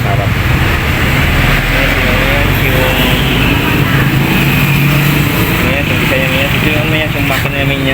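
Carburetor engine of a 110 cc Euro Step underbone motorcycle idling at a dealership in Lingayen, Pangasinan, a loud steady rumble that fills the whole stretch, with someone talking over it.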